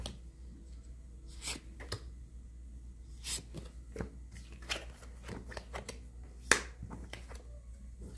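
Tarot cards are shuffled and flicked close by in quick, crisp riffles and snaps, with scattered individual card slaps and one sharp louder flick near the end, and no talk over them.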